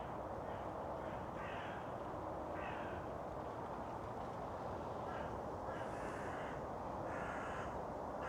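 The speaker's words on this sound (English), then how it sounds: "Can you hear the crow?" Crow cawing in English countryside deciduous woodland, a series of short harsh calls in small groups spread across the clip, distant and faint over a steady outdoor hush.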